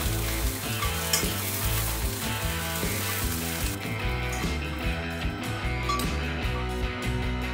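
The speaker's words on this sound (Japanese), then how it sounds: "両面に焼き目をつけておく。 焼き目がついたら一旦取り出す。" Leeks searing in a hot pan give a steady, loud sizzle and crackle that runs continuously, with no voices over it.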